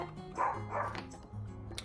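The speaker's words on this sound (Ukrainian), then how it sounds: "Він гавкає." A dog barks nearby, two short sharp barks close together, followed by quieter low sounds and a faint click, with no one speaking over it.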